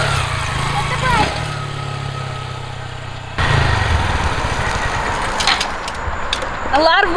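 A Honda Grom motorcycle engine runs steadily near the mic, then its tone shifts sharply as the bike is eased to a stop with the clutch pulled in, followed by a couple of quick revving blips; no words are spoken.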